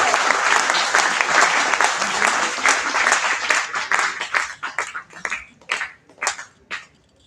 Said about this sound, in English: Everybody, huge round of applause for our chief